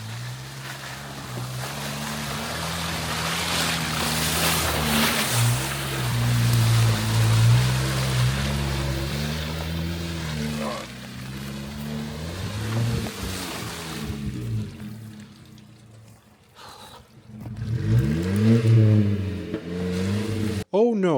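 Lightweight Suzuki off-road vehicle revving hard through deep mud and water, its engine note rising and falling in loud surges with splashing and churning throughout, easing briefly before a final strong burst.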